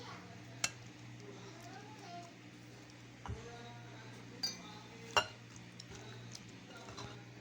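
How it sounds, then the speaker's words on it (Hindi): A spoon scraping and clinking against a bowl while boiled macaroni is stirred for a fruit salad gives a few sharp, sparse taps over a low background hum. "मैक्रोनी को अच्छी तरह मिक्स कर लिया।"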